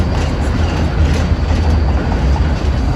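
A tram rolls along its rails, a loud and steady rumble with a continuous roar from inside the car and no talk over it.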